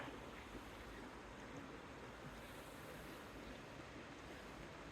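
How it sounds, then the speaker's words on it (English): Water flowing beside a river, a steady, unbroken wash of broadband rushing noise with a gentle breezy quality, heard alone at an even, low level throughout. "Sitting by the river."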